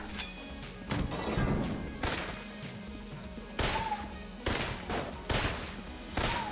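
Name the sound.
M1 gunfire in the video game Enter the Gungeon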